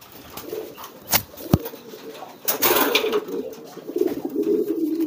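A racing pigeon coos in courtship display, soft throaty calls near the microphone, joined by a couple of sharp clicks or taps and a rustling flurry midway.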